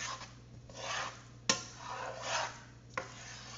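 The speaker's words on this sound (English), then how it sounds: "So now I'm going to stir this until it's all melted." Cheese being stirred into risotto in a pot until melted, slow rhythmic scraping and swishing strokes, quiet and close, punctuated by two sharp clinks of the utensil against the pan.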